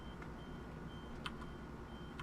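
Faint electronic door-warning beeps from a train in Train Simulator 2017 on the North London Line, a few short scattered tones over a steady low cab rumble.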